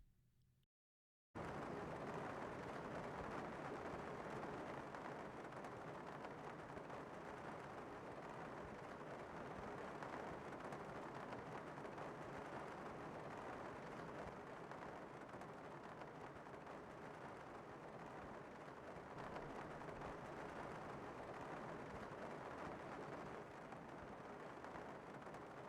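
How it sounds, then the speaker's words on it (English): Steady broadband hiss of rain heard from indoors in the video game Escape from Tarkov, a constant dense patter that starts abruptly after a brief silence and holds loud and unchanging, with no voices. "And now rain indoors."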